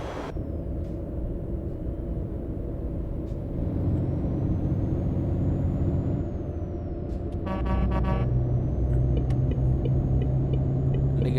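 A heavy truck rolls through traffic in Euro Truck Simulator 2 while hauling fish from Austria to Italy, its engine a loud, steady low drone with a short burst of air-brake hiss near the end.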